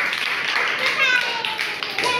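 Children clapping together at a school learning activity, a dense patter of quick claps running through the whole moment with voices over the top.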